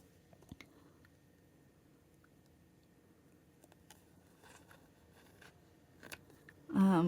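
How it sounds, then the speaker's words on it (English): Scissors glide along sticky card backing while re-backing oracle cards, making faint, sparse snips and soft clicks, close and quiet, with a louder burst of sound at the very end. "you have to use your least favorite pair of scissors for this, because it is sticky. And you can kind of glide it right across the edge here."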